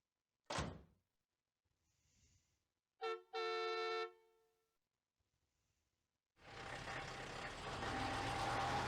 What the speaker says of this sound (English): Doc gets on the truck, loaded with the engine, and takes off.